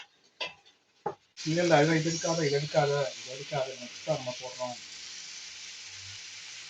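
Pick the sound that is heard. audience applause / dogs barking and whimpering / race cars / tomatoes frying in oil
tomatoes frying in oil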